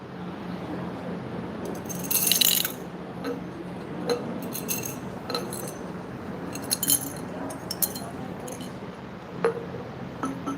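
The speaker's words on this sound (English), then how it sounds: "first important thing what you want is a glass bottle which has an airtight lid" A glass bottle with an airtight lid is handled indoors, giving scattered light clinks and taps, a brighter rattle near the start, set against steady low room noise with no talking.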